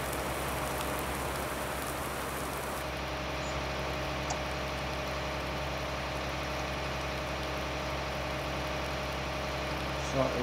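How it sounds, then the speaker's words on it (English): Steady rain falls in a farming video game, a constant dense hiss over a low idling engine drone. It holds even and unbroken throughout. "Like this rain may be in for the day."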